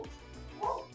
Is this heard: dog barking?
yes